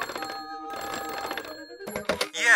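An old man's house telephone rings in Zelda: Link's Awakening, two bright electronic trilling bursts loud and close, followed by a short clatter and a rising chime as the receiver is picked up.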